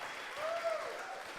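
Brief burst of audience applause at a comedy podcast recording, a steady wash of clapping from a crowd, moderately loud.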